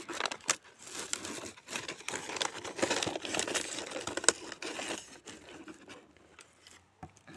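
Crinkly paper bag of flower bulbs being handled and opened up close, a dense run of rustling and crumpling with sharp crackles and brief pauses, no talking.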